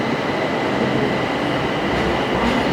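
Rumbling ride aboard a train in Bangkok, a steady loud rolling roar with faint rail clatter throughout, no talking.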